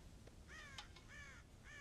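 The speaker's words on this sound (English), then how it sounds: "God damn crows!" Crows caw in the video game Red Dead Redemption, several harsh calls in quick succession, faint and somewhat distant with no speech over them.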